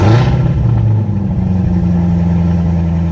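Corvette ZR1 engine revving loud and close, a deep mid-pitched roar rising briefly at the start then holding a steady throaty drone, with no voices.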